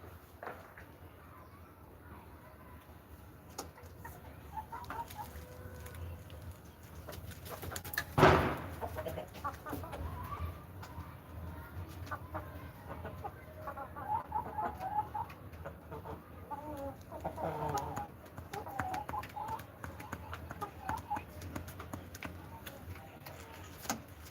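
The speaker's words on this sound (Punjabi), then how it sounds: "ਇਹਨਾਂ ਕੁਕੜੀਆਂ ਦਾ ਕੰਮ ਚੱਲ ਰਿਹਾ ਥਪੜੋ ਥੱਪੜੀ" Hens cluck in a Punjab village poultry yard where roosters are kept for sale, with scattered soft clucks and calls over quiet background noise and one brief sharp sound near the middle.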